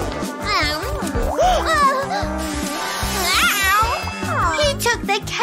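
A cartoon cat meows repeatedly in a children's animated show, its bright, sliding calls mixed in with character voices talking over a music bed.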